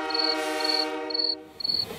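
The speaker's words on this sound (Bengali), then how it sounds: "বাইরে ট্রেনের আওয়াজ।" A train sounds outside a railway station: a steady, fairly loud horn-like tone holds throughout, with short high beeps repeating at an even rhythm and no voices.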